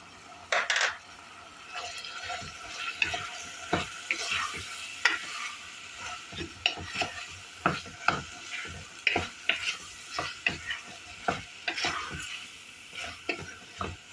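A utensil scrapes and knocks repeatedly against a frying pan while chopped carrot and onion sizzle softly underneath, in an uneven stirring rhythm.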